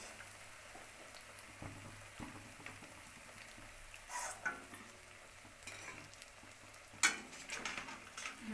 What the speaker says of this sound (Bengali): লাল লাল করে ভাজা হয়ে গেছে এবার আমি এগুলোকে তেল থেকে তুলে ফেলবো